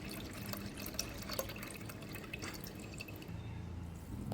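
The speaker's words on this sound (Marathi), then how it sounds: "गाळून घेतलेल्या वाटणाचं पाणी ताकात ओतून घ्यावं।" Strained water from ground spices trickles into buttermilk while making Maharashtrian mattha, a soft, faint pour with light dripping and splashing that runs steadily through the quiet kitchen.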